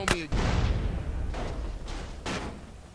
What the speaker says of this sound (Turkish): Patlayacak araba patlayacak.